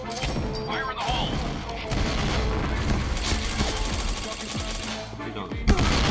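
Gunfire and blasts from a video game shooter, with a bomb going off among dense, continuous bursts of shots and crashes at steady loudness, one sharp impact near the end.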